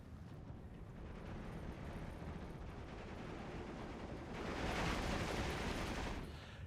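Dense, continuous battlefield din of grenade blasts and rattling gunfire from the wartime strategy game Steel Division 2, a thick rumbling wash that swells louder for a couple of seconds near the end.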